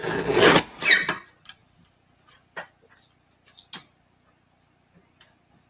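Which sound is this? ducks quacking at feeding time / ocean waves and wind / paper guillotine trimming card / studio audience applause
paper guillotine trimming card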